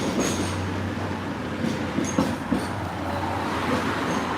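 A tram passes on a Hong Kong street in Happy Valley, its low rolling rumble carrying steadily with a few sharp rail clicks and a faint wheel squeal over the street noise.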